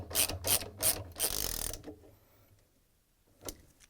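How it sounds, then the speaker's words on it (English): A 13mm socket wrench ratchets while tightening a bolt on a Samsung washer's center tub. Several quick, close ratcheting clicks come in bursts and are followed by quiet, with one more isolated click near the end. "Then we're going to use the 13mm socket wrench"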